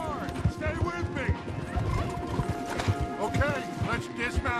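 Horses ridden hard in Red Dead Redemption 2, with rapid galloping hoofbeats clattering close by, a horse neighing, and people talking over the constant drumming rhythm.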